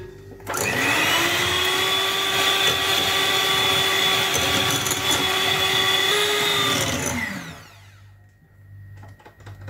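An electric mixer whirs loudly and steadily for about seven seconds while beating egg batter with a pinch of salt and lemon zest, then winds down and stops, leaving near silence.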